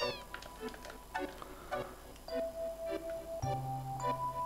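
Cat meows in the video game Final Fantasy VII, several short tonal calls mixed with ticking game effects and chimes, fairly quiet and without speech.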